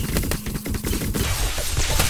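Rapid gunfire in the zombie survival game 7 Days to Die, a dense fusillade of repeated shots over about two seconds, steady and loud with no talking.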